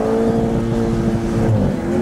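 A Jaguar F-Type on its stock exhaust idles and revs, giving a loud, close, steady engine rumble with a slight swell partway through.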